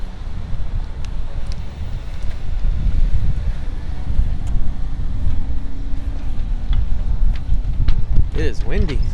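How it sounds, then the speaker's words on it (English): Wind blows outdoors near an old train depot, producing strong low rumbling buffets across the microphone throughout, with a voice speaking briefly near the end. "It is windy."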